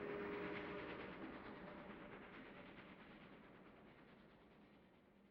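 A train ride in the video game Shadow Hearts gives a low, continuous rumble of rolling rail cars with faint rhythmic clatter, fairly quiet and slowly fading, with no talk over it.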